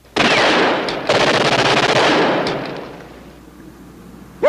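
Loud, sustained bursts of automatic gunfire in a 1964 World War II television drama, two long rattling volleys close together that then fade, with no talking over them.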